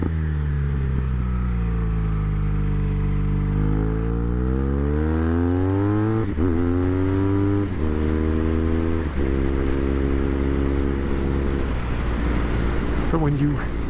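A BMW R1200 R motorcycle engine revs up and holds a loud, close, throaty drone, then drops and rises in steps through the gears, with a steady rumble throughout.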